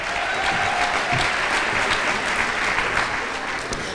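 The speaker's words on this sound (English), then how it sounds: "a big round of applause for all 57 nominees." Steady applause from an awards dinner crowd honoring nominees, dense clapping that holds at an even level throughout with no talk over it.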